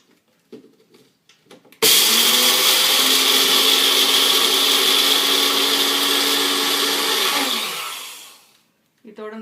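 Electric mixer grinder whirs loudly for about seven seconds, grinding soaked moong dal for pakoda batter, with brief kitchen clatter before and after.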